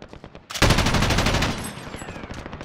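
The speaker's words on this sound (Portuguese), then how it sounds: "Ela demora um pouco pra começar a atirar também." A PKM light machine gun in Modern Warfare opens up after a short delay with a loud, rapid, sustained burst of automatic fire, then tapers off into echoing tails and faint ambient game noise.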